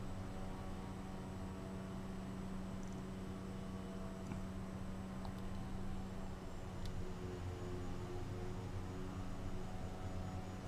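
Airplane in Microsoft Flight Simulator turning back toward London City for landing: a steady, loud engine drone with a constant low hum and faint tonal whine holding evenly throughout, with no voices.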